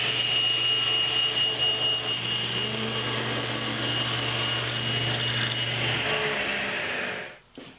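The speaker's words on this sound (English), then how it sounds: "I'll get started by ripping this into 2-inch strips" A table saw rips a piece of cherry wood into 2-inch strips, a steady loud whine and rasp of the blade cutting through the board for about seven seconds before it spins down and goes quiet.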